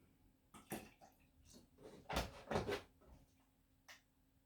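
Cold tap water runs briefly to cool hot water for cherry mead making, with a few soft splashing gushes and knocks in a quiet kitchen, close by and faint, with no talking.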